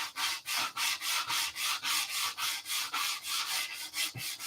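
Steady back-and-forth hand sanding strokes rub across a round wooden surface in a crosshatch pattern, a soft rhythmic scraping repeated about twice per second, close and alone.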